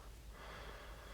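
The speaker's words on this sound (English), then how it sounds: "Sorry about the puffing noise, but our dog" An excited dog puffing and panting inside a car, a close, soft, continuous breathy huffing heard alone for about a second.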